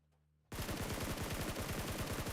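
Automatic gunfire in PUBG Mobile during an esports championship match breaks out after a brief quiet and continues as a rapid, steady burst of close shots until the end.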